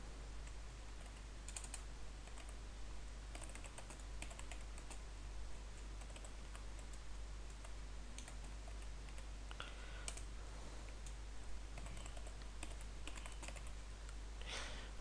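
Fingers type on a computer keyboard while entering text in After Effects, producing quiet, scattered key clicks that come in short irregular runs over a steady low hum, with no talking.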